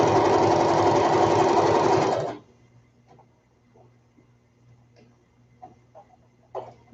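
A sewing machine stitches a zigzag edge on baby ruffle bloomers, running fast and loud for about two seconds before stopping, followed by faint handling clicks and taps.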